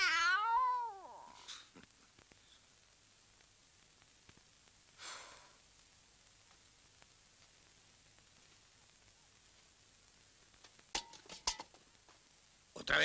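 Cat meows loudly with a rising-and-falling wail at the start, then falls silent, with faint scattered sounds and a few sharp cries near the end.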